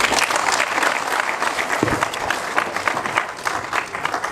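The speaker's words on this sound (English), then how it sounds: "Let's give them a hand of applause." An audience applauds newly sworn-in members at an engineering institution's induction ceremony in Kumasi, a dense, sustained round of clapping that holds steady throughout at moderate distance.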